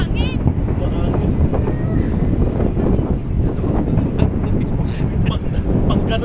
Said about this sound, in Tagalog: May mahangin. Mahangin.